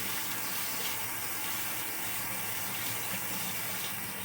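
A kitchen tap runs steadily into a sink, a soft, constant hiss and splash of flowing water, close by and with no talk over it.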